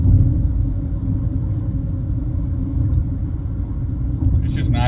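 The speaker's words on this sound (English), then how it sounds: "I like this Maverick. You know, it's a company truck" A Ford Maverick pickup truck rumbles steadily from inside the cab while driving, a continuous low road and engine drone with no clear revving.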